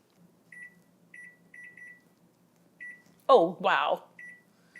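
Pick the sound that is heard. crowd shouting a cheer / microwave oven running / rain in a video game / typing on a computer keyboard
microwave oven running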